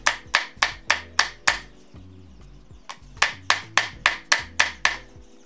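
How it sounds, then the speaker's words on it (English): A hammer gently taps a rusty screw on the spinning head of a top-load washing machine, striking in two quick runs of about five or six light, ringing metallic knocks with a short pause between them. "Tap the screw a little bit with hammer in order to slacken it from the rust."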